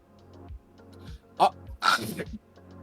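A person sneezes sharply during a podcast recording, a sudden burst preceded by a short intake and followed by a second louder explosive release, close to the microphone amid light background hum.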